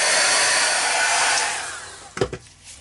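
A heat gun blowing on a ceramic decoration, a loud steady roaring whoosh of hot air that fades as it switches off, followed by a few short clattering knocks.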